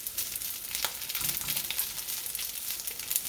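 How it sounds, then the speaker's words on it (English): Food sizzles steadily in a frying pan while making turmeric fried rice with ham, a bright crackling hiss that stays fairly even, close by and without any talking. "you can hear that sizzling away"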